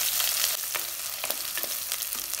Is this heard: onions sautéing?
yes